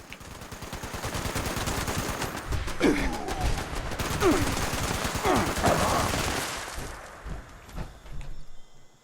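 Sustained enemy gunfire in Fallout 76, dense rapid bursts like a machine gun and fusillade running loud and continuous for most of the stretch, then thinning into scattered shots near the end.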